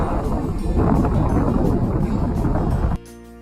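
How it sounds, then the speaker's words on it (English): Ferry crossing to Mejia Island in Hiroshima, a loud steady engine rumble with wind and water rush that cuts off abruptly near the end, leaving a quieter low hum. "In Hiroshima, we had to use a ferry to get to Mejia Island."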